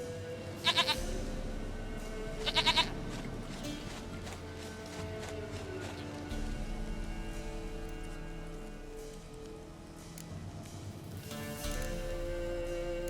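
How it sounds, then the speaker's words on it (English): Goats bleat in The Witcher 3, two short bleats near the start and another toward the end, carried over a steady game ambience with a soft low hum. "Goat of mine, dearest,"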